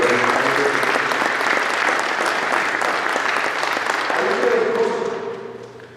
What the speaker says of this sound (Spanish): Debo un aplauso a la palabra de Dios.